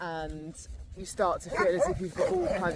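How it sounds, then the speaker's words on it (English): Dogs bark a few times on a walk, under someone speaking close to the microphone. "sorry about the dogs"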